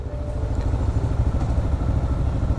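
Kawasaki KLR motorcycle engine running steadily during a demo-tour test ride, a continuous low, rumbling drone with rapid pulsing throughout, close and fairly loud with no talking.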